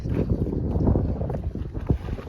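Fishing boats return along the Ganges river with a low, rumbling engine drone close by, mixed with gusty wind buffeting the microphone.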